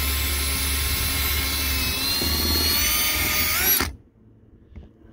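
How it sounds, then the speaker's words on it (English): A power drill bores out rivets on an RV, giving a loud, steady whirring grind that runs for about four seconds before it cuts off abruptly and leaves near silence. "if you have something that's riveted, you're not done. You just drill them out."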